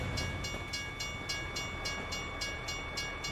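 A freight train rolls past in American Truck Simulator, its rail cars clicking in a regular rhythm of sharp bursts over a steady low rumble, faint and continuous with no talk.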